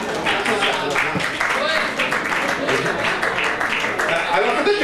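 Audience in a lecture hall clapping in response, a sustained patter of applause with talk mixed in over it, moderately loud and steady.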